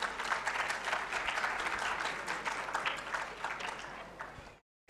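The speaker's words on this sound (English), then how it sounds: "So a huge round of applause," An audience at an AI startup summit keynote session applauds the chief guest, a dense sustained round of clapping that holds steady for several seconds before cutting off abruptly.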